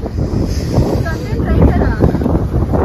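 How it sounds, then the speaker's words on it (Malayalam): Strong wind blows steadily on a trekking trail in Madikeri, loud and rumbling against the microphone, with a person talking through it. "ഇവിടെ നല്ല കാറ്റാണ് ഗൈസ് വരുന്നത്, നല്ല കാറ്റ്"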